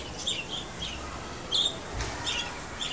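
Lovebirds and other small birds chirp in a school vegetable garden, with short bright tweets coming every second or so over a faint outdoor hum, at moderate distance and without talking.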